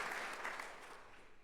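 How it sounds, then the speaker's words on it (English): Round of applause from the audience at an Army women's scholarship awards and hall of fame ceremony, broad steady clapping from a large room that holds fairly even and slowly fades, heard at a distance and fairly quiet. "Please give yourselves a round of applause"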